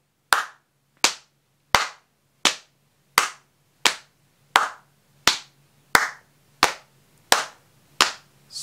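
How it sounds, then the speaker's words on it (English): A clapping game played with hands. Twelve sharp, evenly spaced claps and slaps ring out alone at a steady tempo of roughly one every 0.7 seconds, each close and crisp with a short decay. "Clap, slap."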